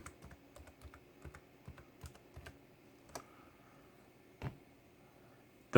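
Quiet close-up keystrokes on a computer keyboard as a terminal command is typed, an uneven run of soft clicks with a few louder taps near the end.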